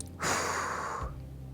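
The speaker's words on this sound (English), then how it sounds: "Produce a quick audible sniff followed by puffing out twice, ensuring that your cheeks inflate." A person does a breathing exercise: a sharp sniff-like rush of air followed by a puffing exhale from inflated cheeks, close and fairly quiet, then near silence.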